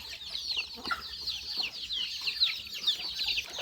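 Chickens cluck busily nearby at a rural Lao farm, a dense overlapping chatter of short, sharp calls with no talking.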